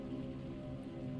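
Steady rain pouring down, a dense, even wash of drops on surfaces that holds constant and close throughout, with no voices.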